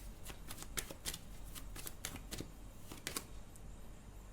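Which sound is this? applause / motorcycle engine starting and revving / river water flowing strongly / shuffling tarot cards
shuffling tarot cards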